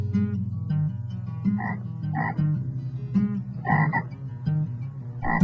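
Frogs croak in a swamp, a dense chorus of repeated, overlapping calls rising in bursts over a steady low-pitched drone, loud and close throughout with no voices.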